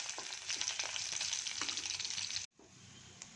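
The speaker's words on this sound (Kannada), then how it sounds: "ಇದೆಲ್ಲ ಸ್ವಲ್ಪ ಚಟಪಟ ಅಂತ ಸಿಡಿಲಿ." Mustard seeds, chana dal, urad dal, cumin, fenugreek, dried red chillies and curry leaves splutter and crackle in hot oil, a dense near sizzle with scattered pops that cuts out sharply, then resumes more faintly.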